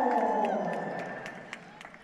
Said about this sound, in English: Sounds like that Aiden's got a little bit bigger cheering section here in the arena